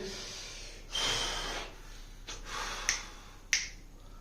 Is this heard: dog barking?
no